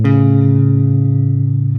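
A sustained electric guitar major third interval rings out with a distorted, buzzing tone, held steady for about two seconds before cutting off.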